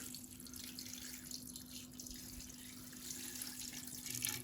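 Water pouring steadily into an Afghan kazan cooking pot while preparing hake, a continuous close splashing stream with a faint constant hum beneath.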